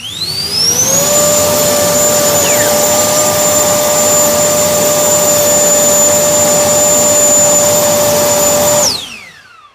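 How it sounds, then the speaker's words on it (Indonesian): Two JetFan electric fans run at full power, a loud steady whine with a rising pitch at startup, holding evenly for several seconds before spinning down and fading out. "One fan kita nyalakan penuh, kemudian baru yang non brand kita nyalakan"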